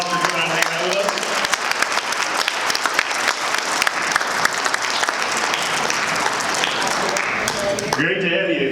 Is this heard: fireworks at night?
no